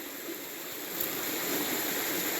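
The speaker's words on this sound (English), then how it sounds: "it's a little bit of a waterfall" Small waterfall splashing into a sandy-bottomed creek, a steady broadband rush of falling water that stays close and even, with no voices over it.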